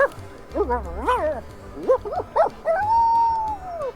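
A dog in the pirate video game Sea of Thieves gives a run of rising and falling whines and yips, several short bursts then one long drawn-out howl-like tone, close and clear.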